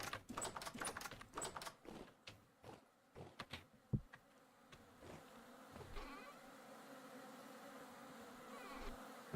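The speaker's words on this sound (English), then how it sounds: "Are the bees following me?" Bees buzz in the survival crafting game Vintage Story, a faint insect drone near a doorway, mixed with brisk clicking and tapping at the start that grows sparser.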